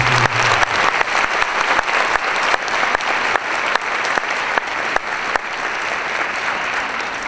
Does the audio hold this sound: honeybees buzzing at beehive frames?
no